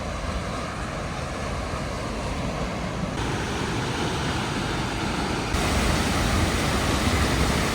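A mountain waterfall near Lake City, Colorado pours in a steady, dense roar at the bottom of a short, steep, rocky trail, unbroken throughout and heard alone.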